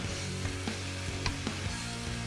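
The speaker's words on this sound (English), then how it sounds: "got a nice sizzle going" Steady, dense sizzling of thin chicken breast strips frying in a hot pan, continuous crackle with a few sharper pops, fairly quiet and close.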